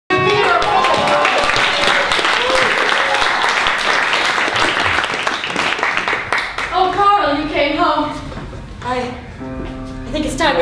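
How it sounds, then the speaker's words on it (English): A big round of applause for an improv theater cast fills the first half, loud and dense, then thins out as actors begin talking over the fading claps. "Be generous and make a big round of applause for the cast."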